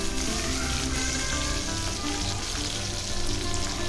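Sliced onion and green chilli pieces fry in a pan for a village-style dried fish and brinjal curry, giving a dense, close, unbroken sizzle that stays loud and even throughout.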